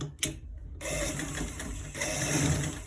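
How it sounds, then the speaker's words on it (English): A sewing machine stitching a long sleeve cuff runs in a steady close mechanical whir, with a brief stop and restart near the beginning. "So we are stitching it."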